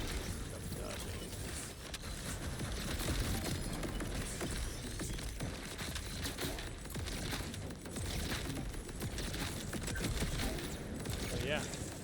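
Gunfire from the video game Borderlands 4, played as Harlowe with a Flash Freeze build: a dense, continuous barrage of rapid shots and mechanical clatter that fills the whole stretch without a break.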